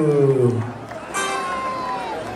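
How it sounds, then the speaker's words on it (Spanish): A crowd at a Peru versus Bolivia Takanakuy and Tinku fight in Arequipa shouts and cheers briefly, with raised voices and whoops rising and fading, followed by lighter babble. "¡Buenos aplausos para Perú!"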